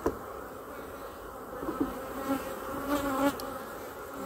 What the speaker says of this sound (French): Elles sont assez agitées sur le cadre, ce qui complique un petit peu la tâche de l'apiculteur pour trouver la reine.